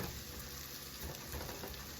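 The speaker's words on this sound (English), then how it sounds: "The sage and the garlic is only going to cook for about a minute until it gets nice and fragrant." Sage and garlic frying in a pan for a creamy butternut squash pasta, a steady, soft sizzle and crackle of hot fat, with a faint stirring texture and no talk.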